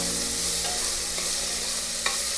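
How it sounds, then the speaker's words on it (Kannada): Sliced onions fry in a pan for mushroom biryani, giving a loud, dense, steady sizzle up close, with a few faint stirring taps and no voices. "ಈರುಳ್ಳಿನ ಚೆನ್ನಾಗಿ ಫ್ರೈ ಮಾಡ್ಕೊಳ್ಳೋಣ."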